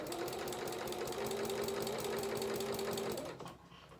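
A home sewing machine runs steadily while stitching princess seams on a dress bodice, a close, even whirring hum with a rapid needle rhythm that stops abruptly near the end.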